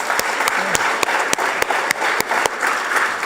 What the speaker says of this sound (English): Please give him one more round of applause.